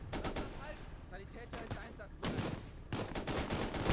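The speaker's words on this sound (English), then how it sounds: "they're actually shooting my damn mortar gunners" Rapid bursts of gunfire in the WWII strategy game Gates of Hell, repeated volleys and machine-gun rattles in clusters, loud and close, with brief quieter gaps between salvos.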